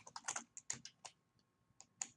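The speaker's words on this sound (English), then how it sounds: "typing becomes very difficult when you are filming" Quick, uneven bursts of keystrokes on a computer keyboard while writing code, close and fairly faint, with short pauses between clusters of clicks.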